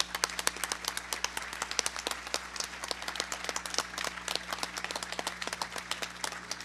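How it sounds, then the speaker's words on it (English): Scattered, moderately sparse clapping from a small audience at a closing ceremony, individual claps distinct and irregular, fairly quiet against a low background hum, with no talking. "I think we owe a big round of applause to Rob for making that possible."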